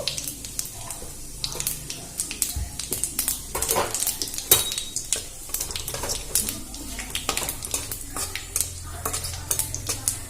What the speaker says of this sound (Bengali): তেলটা গরম হয়ে গেছে, আমি দিয়ে দেবো একটা শুকনো লঙ্কা আর তেজপাতা দুটো, আর গোটা জিরে।